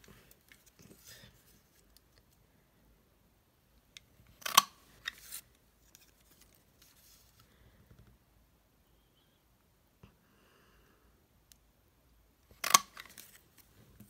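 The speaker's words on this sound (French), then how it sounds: "je vais venir donc avec ma perforatrice, hop, couper des deux côtés" Paper punch cutting through cardstock on both sides while making a star-shaped place card, heard as two sharp, close clacks several seconds apart with light handling rustle between.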